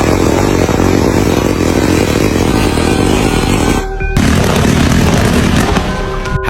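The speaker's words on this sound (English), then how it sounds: "Cake fireworks." Cake fireworks go off in a dense, continuous barrage of loud booms and crackles, nearly unbroken, with a brief dip near the end before the bursting resumes.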